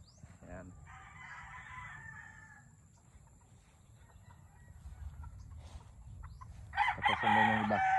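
Street comb chickens and other roosters crow in a quiet yard, one long crow early on and a louder, closer one near the end, with faint clucking between.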